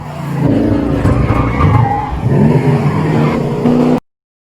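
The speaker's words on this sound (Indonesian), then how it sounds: "Setelah melepas stres dengan ngedrift menggunakan mobil Mustang kesayangannya" A vintage Ford Mustang drifts with its engine revving hard, the roar rising and falling between sharp tyre squeals, loud and close, before cutting off abruptly.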